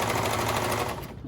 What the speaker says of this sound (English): So I'm going to hold all that together and start serging.